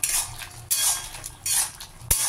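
A vegetable curry of potato, ridge gourd, pointed gourd and drumstick stirred in a pot: loud bursts of a metal spoon scraping and clanking against the pot, with short pauses between the strokes.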